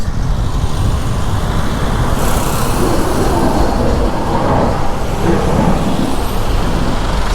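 Dense, loud road traffic roars steadily along a busy main road in the Philippines, heard from a bike with a constant rumble of engines and passing vehicles.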